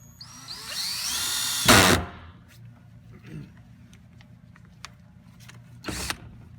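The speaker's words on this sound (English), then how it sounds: "Got the pilot hole drilled." A power drill whirs briefly as it bores a pilot hole in a plastic IBC cistern, followed by quiet clicks and a second short burst of drilling.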